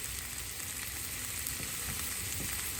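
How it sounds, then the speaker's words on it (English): Rice mixed with butter and lime zest is stirred with a fork over a steady background hiss, a few soft scraping strokes close by, with no talking. "We're gonna give it a stir"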